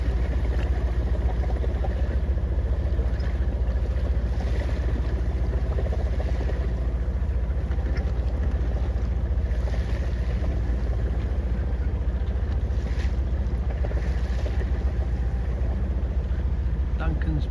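Sailboat under way in a light westerly breeze around Britain near Caernarfon and Pwllheli, with a continuous low rumble of wind and water against the hull, steady and close throughout.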